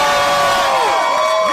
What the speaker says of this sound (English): And they're cheering for you.